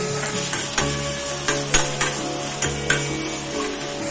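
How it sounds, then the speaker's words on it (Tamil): Chopped onions and garlic sautéing in a pan for a shark puttu dish, with a steady close sizzle broken by repeated sharp stirring clicks of a utensil against the pan. "ரெண்டு பெரிய வெங்காயம் சின்ன சின்னதா நறுக்கி வச்சிருக்கதையும் சேர்த்து இதுல வதக்கிடலாம்."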